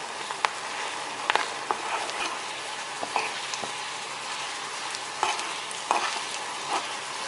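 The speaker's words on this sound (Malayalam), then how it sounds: "നമുക്ക് നന്നായിട്ടൊന്ന് മൂപ്പിച്ചെടുക്കാം." Ginger, garlic and green chilli frying in sesame oil for Kerala-style beef pickle, a continuous close sizzle broken by frequent scraping stirs and clicks of a spoon against the pan.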